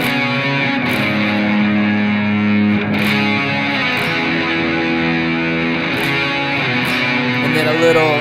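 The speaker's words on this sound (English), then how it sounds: "So all I'm doing is I would just jump on a really heavy distortion" Electric guitar with heavy distortion plays octave lines in a worship song, thick and sustained, with the notes ringing steadily at a loud, close level throughout and no talk over it.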